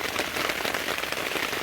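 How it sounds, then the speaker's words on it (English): Heavy rain drums steadily on a tent, a dense close patter with no pauses and no voices. "it started raining like as soon as we showed up, and the rain just kept getting heavier and heavier and heavier"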